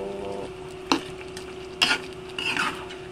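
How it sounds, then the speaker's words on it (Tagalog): Spoon scraping and stirring pork and chicken afritada with brown sugar in a pan, a steady low sizzle underneath with a few sharp scrapes against the metal, close and fairly quiet. "Halo lang po."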